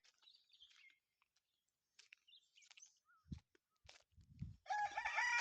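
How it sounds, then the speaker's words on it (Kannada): Country chickens and roosters on a farm in Mandya district: sparse clucks and chirps at first, then a loud, close rooster crow rings out near the end, with thumps and rustles in between. "ನಾಟಿ ಕೋಳಿ ಸಾಕಾಣಿಕೆ ಮಾಡ್ತಿದ್ದಾರೆ ಹುಂಜ ಏಟೆ ಕೋಳಿ ನೋಡಿ"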